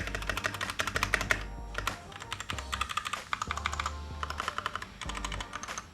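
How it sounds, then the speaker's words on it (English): A Royal Kludge RK61 compact keyboard with red switches is typed on in steady, rapid bursts, its keys clacking loudly as they bottom out, with a few brief pauses between runs of keystrokes. "the keys clang a little bit when they bottom out, and that the keys are a little bit loud"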